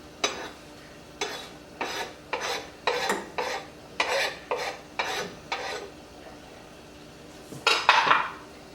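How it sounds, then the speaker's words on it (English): A spoon stirs parsley into meatball sauce in a pot on a stove burner set to simmer, making about a dozen separate clinks and scrapes against the metal in an uneven rhythm, with a louder, scratchier burst near the end. "So I'll mix my sauce, add the parsley in,"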